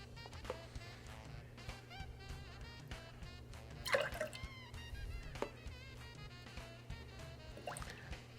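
Pre-packaged liquid egg whites being poured behind a bar, soft dripping and trickling splashes into a container over a low steady hum, near and fairly quiet.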